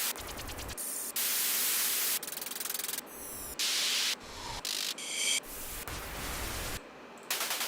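Bursts of harsh broadband hiss switch on and off in uneven blocks, some loud and some softer, like static being cut in and out.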